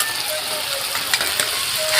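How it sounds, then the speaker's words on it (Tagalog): String beans fry in a pan for chicken adobong sitaw, a loud, dense sizzle of spattering oil with scattered crackles, close up, and no speech. "Tumatalsik yung mantika eh."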